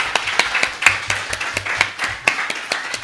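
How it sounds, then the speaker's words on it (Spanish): A small audience claps at an academic philosophy colloquium, sparse and uneven, with individual hand claps standing out sharply rather than blending into a wash. "por favor, un aplauso"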